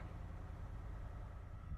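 A truck engine with TBI throttle-body fuel injection idles, a low, steady rumble heard close and fairly quiet, with no talk over it.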